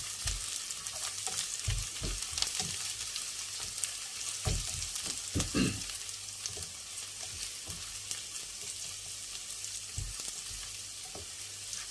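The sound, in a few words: eggs sautéing and sizzling in a pan for menemen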